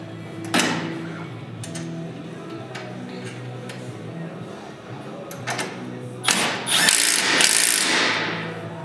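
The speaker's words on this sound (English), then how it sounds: "you can now tighten down the motor mount hardware holding the motor mount bushing to the frame." A ratchet tightening motor mount hardware that holds the motor mount bushing to the frame of a Polaris RZR Pro XP, scattered clicks and clunks followed by a quick run of close ratcheting.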